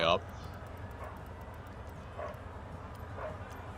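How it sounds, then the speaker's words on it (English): A dog lets out one sharp, close bark at the start, followed by a few fainter, distant yips over low background noise. "That dog is barking."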